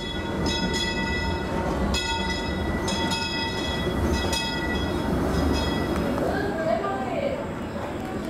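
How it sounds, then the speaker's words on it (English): A train rumbles past with rhythmic clacking of wheels over rail joints, while people talk nearby over the steady low roar. "That's a train behind us."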